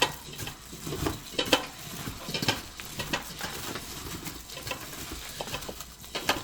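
Radish kimchi is tossed by hand with coarse red chili powder, making a quiet, continuous wet patter and soft rustling as the pieces are mixed in a bowl.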